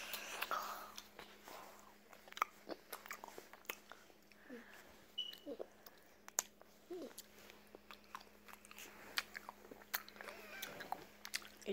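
A person chews grapes close up, with soft wet crunching and squishing bites in an irregular rhythm over a quiet room hum.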